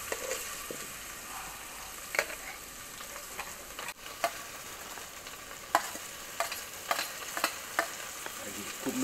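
Onions frying and being stirred in a pan, a steady close sizzle with a few sharp clinks of a spoon scraping the pan scattered throughout, no talking.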